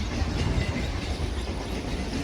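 Charminar Express train standing at Tambaram platform 6, hauled by a Vijayawada WAP-7 electric locomotive with LHB coaches: a steady, loud low rumble with broadband rail noise and faint rhythmic clatter, no voices.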